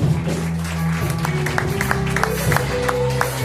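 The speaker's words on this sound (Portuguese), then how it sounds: "Aplaude ao Senhor por esta palavra." Church congregation clapping during a prayer vigil, scattered hand claps over sustained organ or keyboard chords and a low hum, fairly loud but mixed with the music rather than a full ovation.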